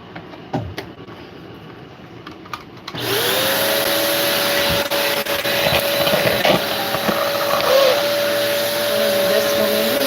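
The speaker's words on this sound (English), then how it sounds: "I'm going to sweep the rest of this up with the hose." A vacuum hose sweeps up leftover debris, starting with a few knocks and scrapes before a loud steady suction drone kicks in and runs on with rattling bits being sucked through.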